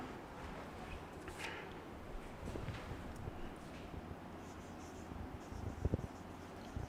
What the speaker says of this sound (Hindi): चलिए मैं बोर्ड पे क्वेश्चन लिखता हूँ।